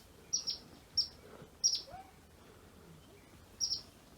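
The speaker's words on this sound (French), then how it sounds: "Est-ce que vous entendez les petits oiseaux?" Small birds chirp along a muddy mountain trail at La Roche Écrite, giving a handful of thin, bright, brief calls at irregular intervals against a quiet outdoor background.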